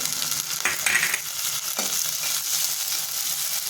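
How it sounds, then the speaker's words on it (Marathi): Onion and peas sautéing in a pan give a steady close sizzle with a couple of scraping stirs near the start and middle, no voices over the frying. "कांदा टाकून आपण परतून घेऊया आता ह्याच्यामध्येच मी मटर टाकून घेते"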